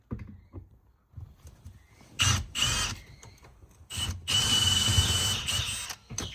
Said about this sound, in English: So it pays to get a good drill bit because they come out nice and easy like this.